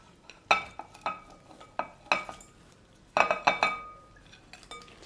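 Prawns being stirred through a tamarind marinade in a bowl for Malaysian Assam prawns, with a utensil clinking and scraping against the bowl in irregular bursts of knocks and wet mixing, close and fairly loud, no talking.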